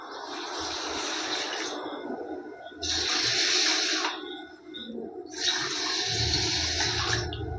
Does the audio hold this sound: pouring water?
yes